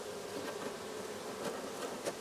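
A beekeeper's expanding honey bee colony buzzing, a quiet, continuous low hum with occasional brief louder passes from individual bees flying close.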